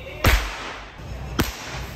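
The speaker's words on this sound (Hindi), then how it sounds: "कितने सारे पटाखे लगा दिए भाई इकट्ठे, जलाने जा रहा मैं तो" Two sharp firecracker bangs go off about a second apart, fairly close, with hissing noise between them, from a bunch of firecrackers lit together.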